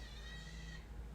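An unhappy baby cries from a video being played nearby, a thin, high, steady wail lasting under a second before it cuts off into room noise.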